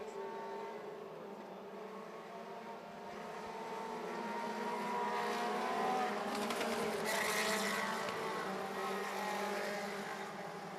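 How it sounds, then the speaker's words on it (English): Sprint race cars of the Northern Lightning Sprint Association circle a dirt racetrack, their engines a steady distant drone that swells louder as the pack passes around the middle of the stretch. "So we have 10 remaining cars on the racetrack."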